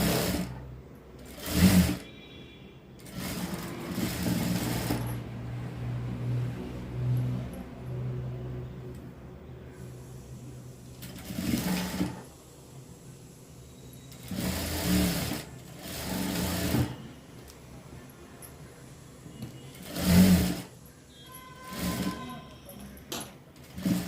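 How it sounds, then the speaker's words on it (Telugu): A sewing machine runs in several bursts while it stitches a double seam across the shoulders of a frock. Each run of stitching stops and starts again at close range, with quieter handling sounds in the gaps. "ఇలాగా పెట్టేసుకొని షోల్డర్స్కి డబల్ కుట్టు వేసుకోవాలండి."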